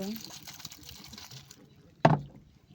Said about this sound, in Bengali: এই যে জল দিচ্ছি, জল দিয়ে শাপলাটাকে ভালো করে ধুয়ে নেব।